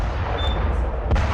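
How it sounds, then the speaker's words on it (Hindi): An explosion outside Trump Tower in news footage, a loud, dense, rumbling blast sustained throughout with a sharper crack near the end. "तो ये देखिए तस्वीर आपको दिखा रहे हैं ट्रम्प टावर के ठीक बाहर ये धमाका"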